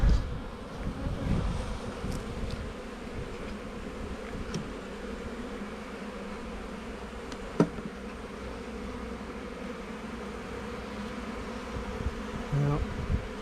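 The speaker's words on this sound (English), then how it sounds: "all the foraging bees are all coming back in" Honeybees buzz in a dense, steady drone around an open hive's brood box as foragers return, a close continuous hum with a few louder passes near the listener.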